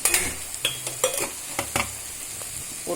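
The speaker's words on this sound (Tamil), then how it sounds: "அப்புறம் இஞ்சி பூண்டு பேஸ்ட்டு, வெங்காயம், தக்காளி, கேரட் போட்டு இப்படி செஞ்சுக்கிட்டு இருக்கிறாங்க." Ginger garlic paste, onion, tomato and carrot being stir-fried in a pan for wheat-flour pasta: a spoon scrapes the pan in repeated close strokes over a steady low sizzle, with no talking.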